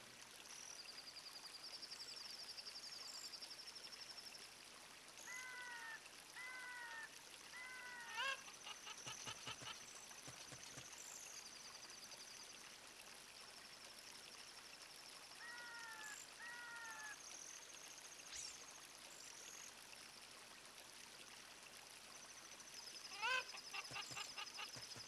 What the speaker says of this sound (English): The water is still quite loud.